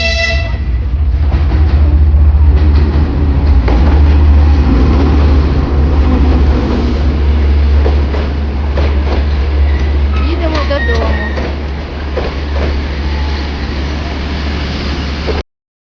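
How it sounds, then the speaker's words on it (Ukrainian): Loud, steady train rumble with rattling carriages and brakes as a passenger train pulls into a railway station platform on the Rakhiv–Sumy route, heard close by under faint voices. "Їде наш потяг."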